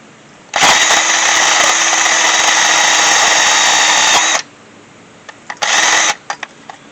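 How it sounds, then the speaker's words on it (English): A power drill spins a wire brush on a rusty 2011 Ford F250 hub in a loud, harsh, scraping whir lasting several seconds, then a shorter second burst after a brief pause. "You don't have to use a wire brush on a drill."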